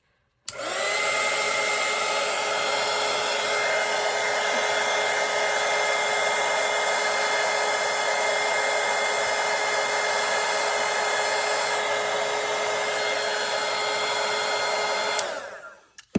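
A hair dryer blows steadily on a watercolour landscape painting to dry the layers, a loud, even, continuous whir that starts abruptly, holds constant and cuts off.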